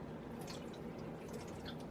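Distilled water pouring steadily into an AeroGarden reservoir, a continuous close, soft splashing and trickling with faint drips, no talking.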